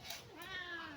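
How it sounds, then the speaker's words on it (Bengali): A cat in a village home gives a single faint, drawn-out meow that rises and then falls. "কি বিরিয়ানির গন্ধ পাইছো আর বিলাই ম্যাও ম্যাও করতেছ না?"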